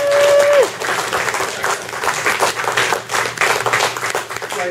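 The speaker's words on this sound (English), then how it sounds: "Let's have a big round of applause." A crowd claps steadily and warmly, sustained applause filling the space from start to finish after a brief tone at the very beginning.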